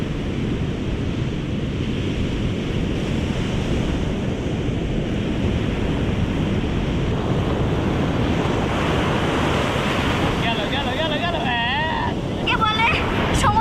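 Sea surf washes onto a deserted sandy beach near Puri, a constant roar of breaking waves mixed with strong wind buffeting the microphone, with faint voices rising near the end.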